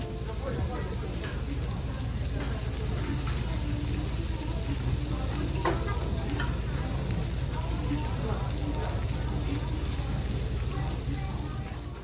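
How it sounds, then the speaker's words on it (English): Pork grilling at a Korean barbecue restaurant in Seoul, a steady, dense sizzle and crackle running throughout amid faint background restaurant chatter. "You can enjoy pork being cooked in front of you and served with lots of side dishes."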